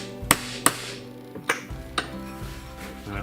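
Hammer strikes a steel punch set in a bearing's hole to lock it onto the shaft during a Phazer snowmobile mountain modification, giving several sharp metallic whacks, two quick ones, then a few more spaced blows, close and fairly loud.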